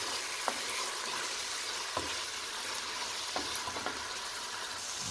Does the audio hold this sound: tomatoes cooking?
yes